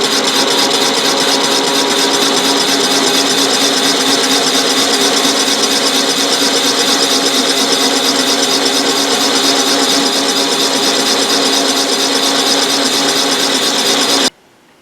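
A facing cut on a metal part for a gear hobber build makes a steady, loud, rasping machining noise that runs unbroken for about fourteen seconds and then stops abruptly.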